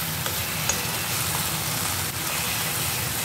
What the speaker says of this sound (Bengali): এইভাবে আমি কচু শাকটাকে ভালো করে তেলের সাথে আর এই রসুন, কালো জিরে, কাঁচা লঙ্কার সাথে মিশিয়ে নেব।